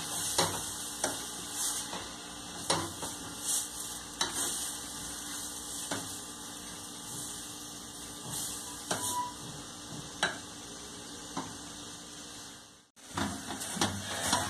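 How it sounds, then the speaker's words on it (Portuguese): Strips of banana peel cooked as a meat substitute are sautéing with seasonings in a pan. They give a steady close sizzle with repeated stirring scrapes and clicks, no talking, and a brief drop near the end. "coloca a carne da casca da banana, que foi cortada em pequenas tiras. Coloca essa carne."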